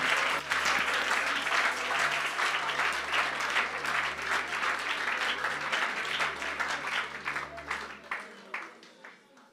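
A church congregation keeps up dense, sustained clapping that carries on steadily before thinning into scattered claps and fading out near the end, with voices faintly underneath.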